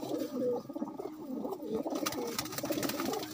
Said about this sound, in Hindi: ये देखो जनाब कबूतर